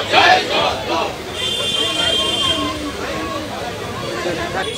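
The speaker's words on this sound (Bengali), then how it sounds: "তৃণমূল সরকারের বিরুদ্ধে স্লোগান তুললেন বিজেপির বিধায়করা।" BJP legislators chanting slogans in protest against the Trinamool government inside a state legislative assembly, a loud crowd of voices shouting together at close range, strongest at the start and then settling into a steady rumble of chants and babble.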